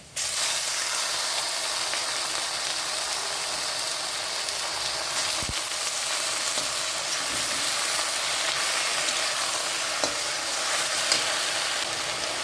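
Boiled jute leaves frying in a pan with dried chilli and garlic, giving a steady, dense sizzle throughout with a few faint stirring clicks and no talk.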